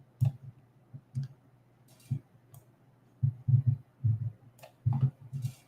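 Quiet, sparse mouse clicks sound close by, singly and in small clusters, as an invoice is approved in Dynamics 365.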